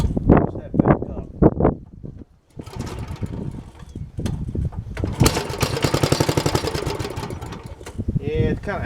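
Troybilt engine running rough and short of fuel, sputtering unevenly and surging in bursts, with someone talking over it at the start.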